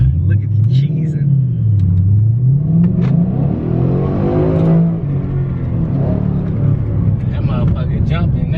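A 2013 Mustang GT with a Flowmaster 44 Series exhaust revs up and settles in loud, close waves of deep rumbling engine sound, with people talking and reacting over it.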